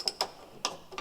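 Tool undoing a nut under car trim, heard as four sharp, close ratcheting clicks spaced unevenly over a second.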